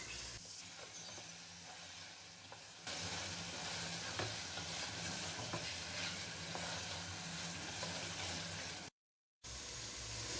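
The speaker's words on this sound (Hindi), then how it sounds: "अब हम इसको बहुत ही अच्छे तरीके से इसकी बुनाई कर देंगे, तकरीबन 4 से 5 मिनट।" Chicken frying with cumin seeds in a pot, giving a steady broadband sizzle that grows louder after a few seconds and carries on with a brief dropout near the end.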